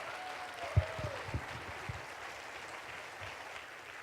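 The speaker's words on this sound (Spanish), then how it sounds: "un fuerte aplauso" Church audience applause rising and settling after a designer of the church and Bible institute speaks, a broad steady patter of clapping with a few louder claps near the start, moderately distant and even throughout.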